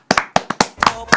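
A few sharp, close hand claps in a studio, around seven distinct slaps in an uneven quick rhythm, loud and dry with no other sound.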